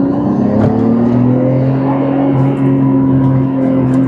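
A Nissan Skyline R33 GTR V-Spec engine revs hard and close, a loud, sustained rising howl that holds at high RPM with only slight dips.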